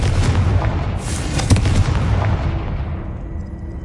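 Confringo fire spell blasting in Hogwarts Legacy on PS5, a loud close boom with a crackling burst and a sharp secondary crack, then a fading rumbling tail.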